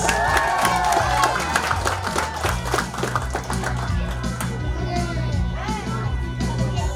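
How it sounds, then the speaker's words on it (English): An audience at the Instant Happiness 2022 event claps and cheers, rapid dense applause with crowd noise and shouts filling the whole stretch, loud and close, while a voice calls out over it. "come on, everybody, clap your hands"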